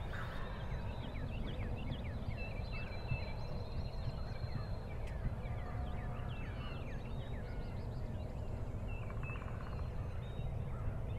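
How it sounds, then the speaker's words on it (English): Several wild turkeys, including longbeard gobblers, gobble and cluck repeatedly at a distance over a steady outdoor background, some calls overlapping from different directions. "There was turkeys all the way around us."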